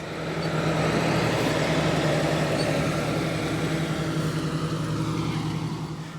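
Steady drone of a tractor engine pulling a nitrogen applicator through a cotton field, putting down about 30 gallons per acre; a constant low rumble, loud and close, running unbroken with no talk.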